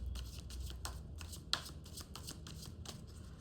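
Tarot cards shuffled by hand in a quiet room, a steady run of soft riffling flicks and light slaps, close and alone without speech.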